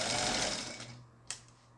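An old Brother B260 sewing machine fitted with a motor spins its bobbin winder, a close whirring hum that winds down over a second and a half, ending with a short click.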